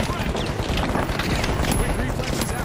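Turrets fire in the video game The Finals, a loud dense stream of rapid gunfire bursts that continues through the whole moment.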